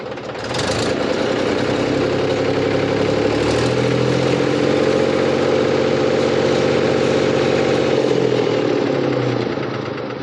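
A tractor engine with a power steering fault runs loud and close, a steady throbbing drone that rises slightly in pitch as it is revved and holds for about ten seconds.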